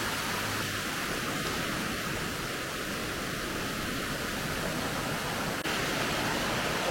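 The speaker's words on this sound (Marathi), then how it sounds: "सुंदर असा हा धबधबा आहे" Padekap waterfall in Chindar, Kokan, pouring down from a stream channel, a steady broadband rush of falling water that stays loud and even throughout with no voices.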